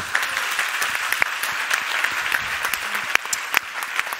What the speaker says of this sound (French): Bravo, on peut l'applaudir, bravo.